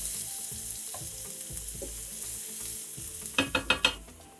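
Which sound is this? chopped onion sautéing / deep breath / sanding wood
chopped onion sautéing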